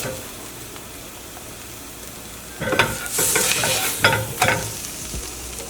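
A Meati Classic imitation cutlet fries in a pan without oil and is flipped. A quiet, low sizzle gives way to louder bursts of crackling and scraping, then the frying settles back down.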